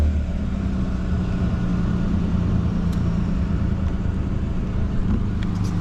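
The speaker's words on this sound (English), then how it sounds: "I don't know why they didn't put these engines in like Rolls Royces and Bentleys and stuff like that, because absolutely silent." Holden VL Commodore with its RB30 engine idling, a steady, smooth low hum that runs evenly throughout, quiet and close with no revving or talk.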